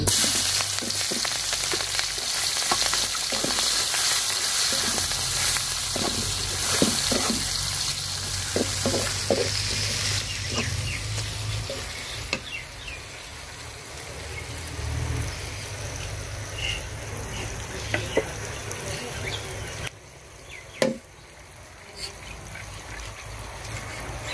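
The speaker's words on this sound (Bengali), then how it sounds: "পেঁয়াজটা আমি লাল লাল করে ভাজা নিছি," Chopped onion and green chili frying in leftover fish-frying oil in a home kitchen, a continuous close sizzle with occasional stirring scrapes and clicks, easing off in the second half; no voices.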